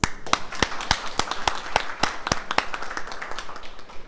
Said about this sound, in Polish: To może brawa.